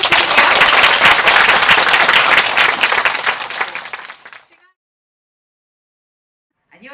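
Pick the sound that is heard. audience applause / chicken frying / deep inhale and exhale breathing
audience applause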